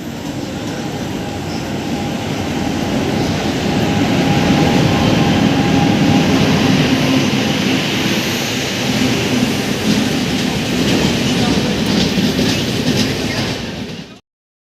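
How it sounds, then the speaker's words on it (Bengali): A long-distance passenger train on the Thiruvananthapuram to Shalimar route fills the air with a loud, steady rolling rumble and roar that holds for about fourteen seconds before cutting off abruptly. "আমরা উঠে পড়েছি ট্রেনে।"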